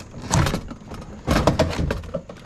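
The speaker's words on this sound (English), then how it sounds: "all you got to do at this point is pick straight up on the door panel" Plastic door panel being pried and lifted off its hooks on a 1999–2006 GMC/Chevy 1500 or 2500HD pickup, giving two fairly loud, close bursts of scraping, clicking rattle, each lasting roughly a second.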